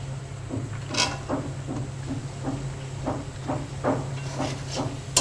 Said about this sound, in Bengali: এখন আমি দিয়ে দিব কচুর লতি।